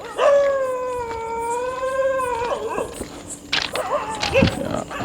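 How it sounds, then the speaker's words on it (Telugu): Dogs near a railway track at night let out a long, wavering howl up close, then break into sharper yips and barks, with a person murmuring faintly in the background. "కుక్కలు నన్ను చూసి అరుస్తున్నాయి అనుకుంటా"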